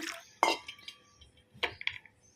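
Water drips and squishes as tamarind is washed in a small bowl. A few separate wet splats and drips come close up in a quiet room.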